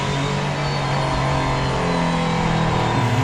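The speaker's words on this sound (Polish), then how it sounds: "w momencie, gdy odpali się silnik spalinowy" The combustion engine of a highly complex hybrid supercar fires up and revs, heard loud and close from inside the cabin as a dense, rising engine roar.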